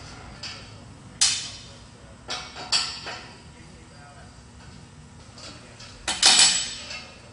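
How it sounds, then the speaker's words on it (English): A 3/4 inch wrench working the bolts that hold a filter in place, heard as a few separate sharp metallic clanks and clinks against a low steady hum, close by. "Use a 3/4 inch wrench. You can remove the bolts that hold the filter in place."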